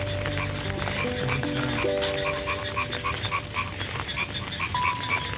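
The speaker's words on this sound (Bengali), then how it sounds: "আর তার সাথে ব্যাঙ ডাকছে।" Frogs croaking steadily in a rainy field at night, a dense chorus of repeated calls mixed with the hiss of falling rain, fairly loud and continuous with no voices.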